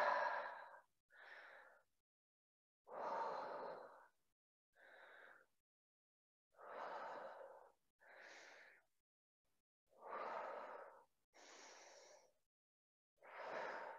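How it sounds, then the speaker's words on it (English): Slow, deep breaths during an exercise class, about ten long inhales and exhales in an even rhythm, close and clearly audible with no talk over them. "Deep breaths."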